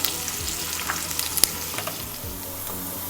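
Butter sizzles and fries whole spices, bay leaf, cloves, cinnamon and cardamom, in a pan for coconut rice, a steady close crackle with small pops and an occasional stir, and no talk.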